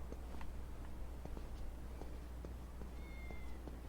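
A cat in the Yakuza video game lets out a single short meow late in the moment, over a low steady game background hum with faint ticking.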